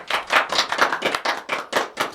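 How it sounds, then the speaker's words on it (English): A round of applause on a half-hour variety show: close, crisp handclaps in a steady, even rhythm, about nine claps in two seconds, with no voices. "we love a round of applause"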